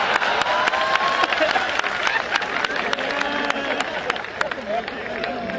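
An audience at a poetry recital applauds after a comic verse, a continuous wash of many clapping hands with sharp nearby claps standing out, plus crowd murmur and light cheering throughout.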